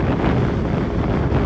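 Steady wind buffets the microphone outdoors on a sunny day beside a small motorbike, a continuous loud low rumbling roar with no gaps and no voices.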